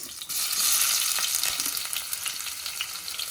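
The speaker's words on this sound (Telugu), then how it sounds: "వేసుకొని బ్రౌన్ కలర్ వచ్చే వరకు మీడియం ఫ్లేమ్లో వేయించాలి" Sliced onions fry over a medium flame in oil with bay leaf, cinnamon, cloves and cardamom for mutton curry, giving a dense, loud, continuous sizzle close by with faint stirring ticks.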